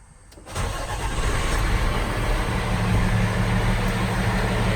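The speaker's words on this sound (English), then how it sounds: "with my foot on the brake, I'm going to crank my truck." A dump truck's engine is cranked inside the cab and catches after a brief starter whirr, then settles into a steady, loud diesel idle with a low rumble close by.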